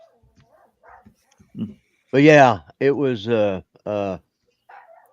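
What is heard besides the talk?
dog barking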